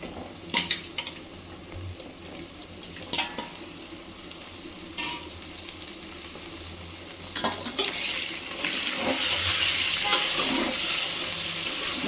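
Mutton pieces drop into hot oil in a pan for gongura mutton and fry with a steady loud sizzle, with a few clattering stirs and the frying noise swelling louder in the second half.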